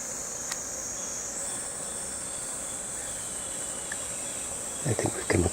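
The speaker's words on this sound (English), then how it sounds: "I think we've come across a bee's nest." Insects droning by a bee's nest along a forest trail between Tsukigaseguchi and Shimagahara, a steady high-pitched buzz that carries through the whole stretch, with a few brief rustles near the end.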